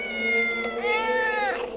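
A cat meows twice, close and loud: a long, steady mew followed by a rising and falling one, with no talking over it.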